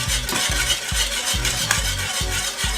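A whisk beats Jamaican plantain porridge in a pot with quick, steady, rhythmic strokes, several scraping sweeps per second, loud and close with no talking.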